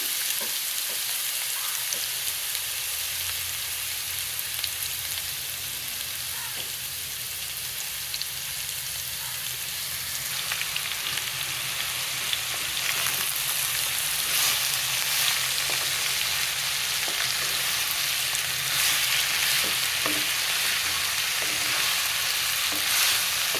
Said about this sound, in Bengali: আঁচ কমিয়ে লাউ, একটা ছোট্ট আলু ছিল দিয়ে দিলাম।